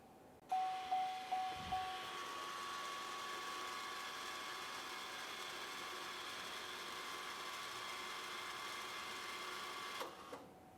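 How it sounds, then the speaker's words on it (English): Electric rear brake calipers on a GMC Acadia (2017-2024) retracting their pistons: a few short clicks, then a steady close mechanical whir and hum for about nine seconds, stopping with a final clunk. "Once I press this, we're going to be listening to the rear calipers."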